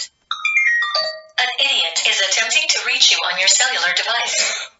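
A mobile phone ringtone plays a short stepped melody of bright tones for about a second, then a voice talks over a busy, continuous background for the rest.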